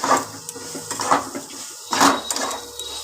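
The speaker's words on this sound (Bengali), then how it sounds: "দেখো চাট মশলা দিয়ে দিলাম এবার আমি আবারও ভালো করে ভাজা করে নেব সব একসঙ্গে দিয়ে" Vegetables being stir-fried with chaat masala in a pan, heard as repeated clattering scrapes and knocks of a utensil against the pan in irregular bursts, close and moderately loud, with no talking.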